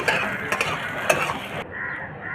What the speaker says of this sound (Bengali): এবার আমি এই ঝিঙেগুলো এর মধ্যে ভেজে নেব